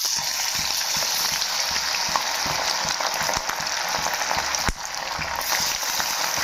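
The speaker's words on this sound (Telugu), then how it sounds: "స్టవ్ని మీడియం ఫ్లేమ్లో పెట్టుకుని చికెన్ని వేసుకోవాలి." Chicken pakoda pieces deep frying in hot oil on a medium flame, a steady bubbling sizzle throughout with scattered pops and one sharp crackle midway, close and alone.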